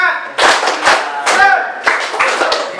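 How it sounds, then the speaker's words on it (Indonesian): A classroom group performs a rhythmic spirit clap: several sharp, loud bursts of hands striking together in a quick pattern, mixed with chanting voices at close range. "Tepuk semangat."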